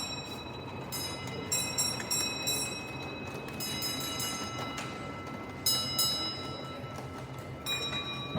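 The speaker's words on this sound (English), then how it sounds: "2 beeps, train entering section" Railway signal box block bell on a Lancashire and Yorkshire Railway training layout, with short bright bell strikes in small groups over a steady background hum, moderately faint.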